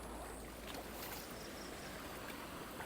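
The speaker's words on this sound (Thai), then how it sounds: "น้ำไหลอยู่ดีไหลดีไหลดี" Stream water flowing steadily through a mossy, waist-deep canal, a continuous close rushing and burbling wash with no talk over it.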